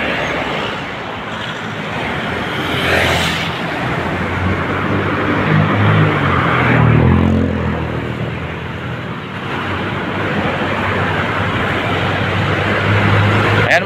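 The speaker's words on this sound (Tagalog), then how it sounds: "ang daming truck, ang daming sakyan" Steady roar of heavy road traffic, with trucks and other vehicles passing near Arroceros in Manila, broad and continuous with wind buffeting, swelling around the middle and lasting throughout without talk.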